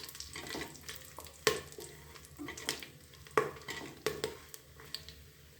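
Cinnamon, cloves, cardamom and fennel frying in hot ghee or oil in a cooker for ghee rice, a faint sizzle under repeated scraping and stirring clinks of a spoon against metal, close by with no talk.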